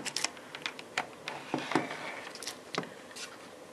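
An Adaptec USB 2 Xchange hard drive spinning up after power is connected gives off a quiet string of irregular, sharp clicks and ticks over a soft background hum, with no talking.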